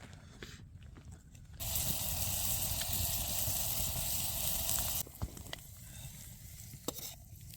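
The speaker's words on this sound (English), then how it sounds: "let that saute over the fire here" Food sautés in a pan over a campfire during winter camping in deep snow, a loud steady sizzle lasting a few seconds between quieter stretches with small knocks.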